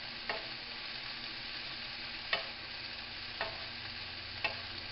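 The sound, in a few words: stir-frying onions and meat in a pan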